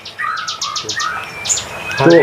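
Caged songbird chirping in rapid bright trills and repeated tweets, fairly close and continuous, with a short burst of human voice near the end.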